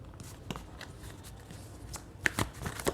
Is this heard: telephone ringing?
no